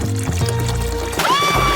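Cola pouring from a bottle, a short steady gurgling pour that ends with a rising fill tone as the level climbs, heard close and alone.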